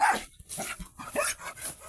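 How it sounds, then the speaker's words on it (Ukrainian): Dogs in a village barking close by, several sharp yapping barks and yips in quick irregular bursts with a brief whimper, no talk over them. "А це ось собаки."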